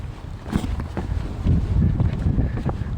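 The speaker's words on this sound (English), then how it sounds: "Yeah, I know the wind's really bad." Strong wind buffets the microphone on a lake dock by a small boat ramp, giving heavy low rumbling gusts that surge and ease without pause.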